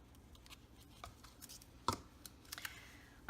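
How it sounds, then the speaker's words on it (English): A few quiet, crisp snips of scissors cutting material, scattered irregularly at close range in a quiet room. "Scissors."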